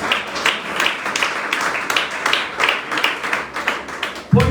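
A church congregation claps in praise, steady close bursts of hand claps running throughout, with a thump near the end.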